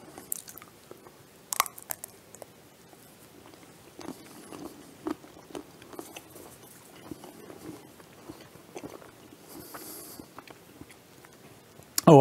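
Someone eats Martha Washington candies made with pecans and cherries. Scattered bites and crunchy chewing sounds come close and fairly quiet over about twelve seconds in an otherwise still room, with no talking.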